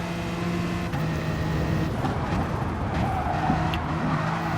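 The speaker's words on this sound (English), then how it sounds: "you see me having a massive moment of oversteer and understeer at the same time, more or less, as I drift it wide into T1" Race car engine droning with shifting pitch and tyre scrubbing as the car oversteers and drifts wide into the first turn of a Kyoto circuit in a racing game, steady and fairly loud with no talk.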